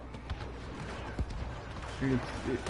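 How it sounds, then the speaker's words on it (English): Explosions and gunfire in a PS4 shooter game, with scattered muffled bursts and distant booms over a busy low rumble, fairly quiet overall, with brief tonal game sounds near the end. "There's so much explosions."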